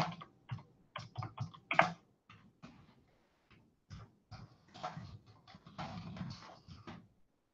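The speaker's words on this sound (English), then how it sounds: "I'll type it in." Someone types on a computer keyboard in irregular bursts of close, light clicking, with short pauses between runs of keystrokes and no talking.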